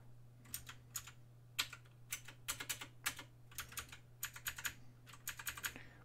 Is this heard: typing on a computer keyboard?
yes